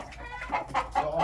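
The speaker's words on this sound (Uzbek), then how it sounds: "O'xayil xo'rozlar ham ko'p ekan bu yerda." Roosters and chickens in a coop, including Andijon black birds, giving a short run of close, loud clucks in quick rhythmic bursts.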